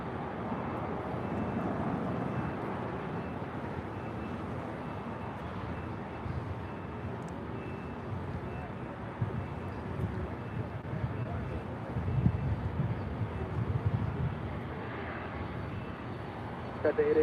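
A Boeing 777 freighter on a south side departure at LAX, a steady broad roar of jet engines throughout, loud and continuous with wind buffeting the microphone and slight swells toward the end.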